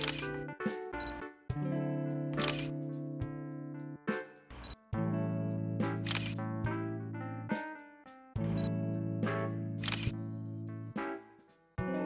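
Several sharp shutter clicks from a Nikon D200 digital SLR camera, spaced a few seconds apart, ring out over steady sustained musical tones.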